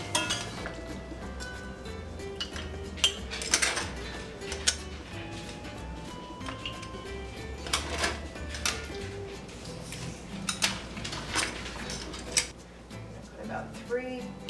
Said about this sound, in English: put this seafood in the bowl first and then ladle in all of the amazing cioppino broth